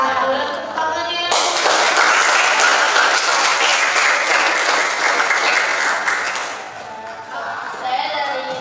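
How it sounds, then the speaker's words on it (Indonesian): Classmates clap for a group presentation in a classroom, a sudden burst of close, loud applause that holds for several seconds and tapers off, with voices before and after it. "Boleh tepuk tangannya."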